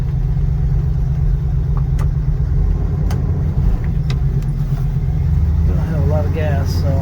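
Engine of a Pontiac Ventura running after sitting unused for three years, a steady low rumble held loud and close throughout with a few faint clicks and a brief voice near the end.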